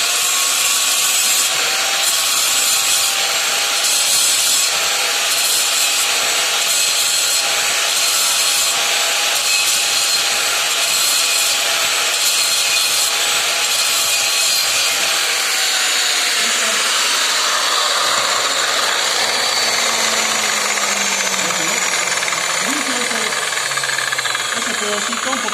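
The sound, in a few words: cleaning a metal piece before welding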